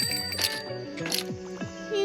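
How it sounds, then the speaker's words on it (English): A bicycle bell rings twice in the cozy video game Tiny Bookshop, two bright dings over soft background game music. "You can ring the bells on the bicycle."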